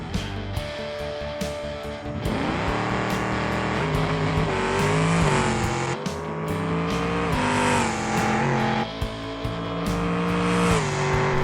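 A Gavel Grand Marshall drag car with roll cage removed and lightweight rims makes a full quarter-mile run in BeamNG, its engine roaring loudly and continuously up through repeated gear shifts, pitch climbing and dropping, close and alone without talk.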